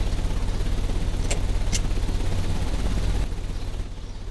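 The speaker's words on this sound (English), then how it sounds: "The engine has started." A machine engine starts up in the video game Sherlock Holmes: Crimes and Punishments and runs with a loud, rapid, throbbing rumble that softens slightly toward the end.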